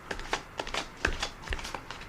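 Riffle shuffling of a tarot deck up close, a quick series of soft crisp card flutters and taps in an irregular rhythm, fairly quiet, with no talking.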